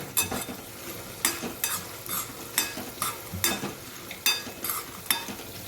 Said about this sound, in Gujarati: 2 બાજુ કરવા ગઈ તો આ બાજુ વડી આપણી સરસ ફ્રાય થઈ ગઈ